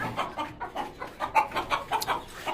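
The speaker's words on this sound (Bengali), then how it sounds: "এখানে হচ্ছে 3টা ফার্মি মুরগি আর একটা মোরগ আছে" Three farm hens and a rooster in a rooftop coop cluck close by in quick, uneven bursts, soft repeated clucks overlapping with no break.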